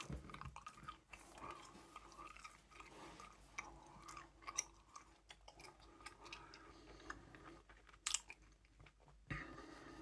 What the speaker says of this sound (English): Chew some gum while I'm doing it.